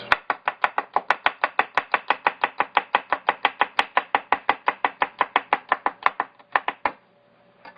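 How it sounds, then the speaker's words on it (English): A knife chops steadily through garlic cloves on a cutting board, making thin slices. Around thirty-five quick, evenly spaced taps sound close and crisp with no talking, then stop near the end. "You got your garlics, and then you're going to want to make some nice thin slices"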